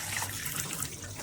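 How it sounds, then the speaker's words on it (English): Coffee pouring from the carafe of a De'Longhi all-in-one coffee maker and espresso machine, a steady close liquid stream with dripping, alone and continuous for about a second. "As I'm pouring, it's dripping."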